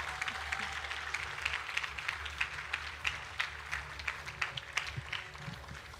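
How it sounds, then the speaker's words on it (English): Audience applause for graduates at a Hillel Academy Grade 6 graduation, a soft, fairly distant patter of many hands with individual claps standing out rhythmically toward the end, recorded at low level. "another round of applause for graduates"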